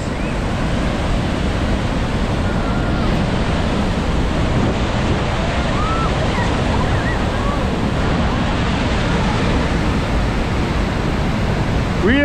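Continuous dense roar of Niagara Falls water crashing at the base of the falls, broadband and steady throughout, with faint voices of tourists nearby beneath it.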